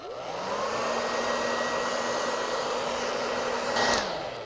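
A hair dryer or heat gun blows steadily on 3M VHB adhesive on a motorcycle helmet mount, giving a close, continuous whirring hiss with a constant tone that spins down at the end.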